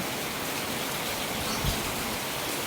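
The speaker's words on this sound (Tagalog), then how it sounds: "Oh, lagi pa rin umuulan." Steady rain falls in a dense, even hiss, with one brief low thump partway through.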